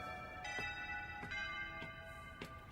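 Faint school bell in an anime classroom scene, four evenly spaced metallic rings with lingering tonal overtones over quiet background.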